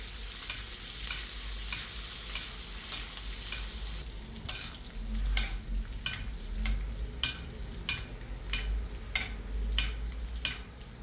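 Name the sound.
mallard duck frying, basted with foaming butter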